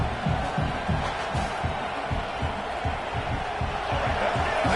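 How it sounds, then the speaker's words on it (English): Stadium crowd roaring continuously at a college football game, Georgia vs Michigan, as a defense tries for a goal-line stop; a loud, steady wash of noise with rhythmic thumping and chanting underneath. "The crowd really making some noise now, trying to help out this defense to get this stop near the goal line."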